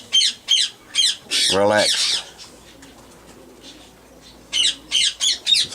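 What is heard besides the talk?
pigeon making a funny squawking call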